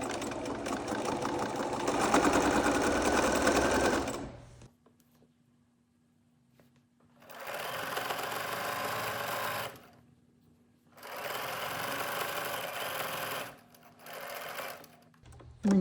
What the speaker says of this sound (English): I keep my needle down while I'm sewing